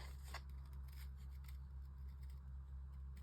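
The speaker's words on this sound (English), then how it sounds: "So we carry on with the line, cut round the nose" Scissors snipping card around a stamped shape during card making, heard as a few faint, close cutting clicks and scrapes over a low steady hum.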